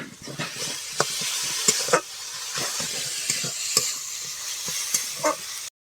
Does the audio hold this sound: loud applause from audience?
no